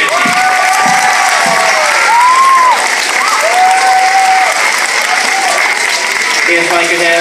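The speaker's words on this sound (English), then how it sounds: "How about a round of applause for Ethan's family?" School audience in a gymnasium or classroom setting clapping steadily, a dense, loud wash of applause from a large crowd of children and adults, with a few voices calling out over it.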